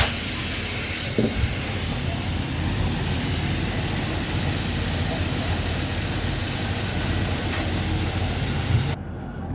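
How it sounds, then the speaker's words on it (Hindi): A pressure cooker of beef nihari hisses loudly as its steam is released on opening, a continuous close rushing spray lasting several seconds before cutting off abruptly. "तो गाइज़ हम अपना प्रेशर ओपन करने लगे हैं"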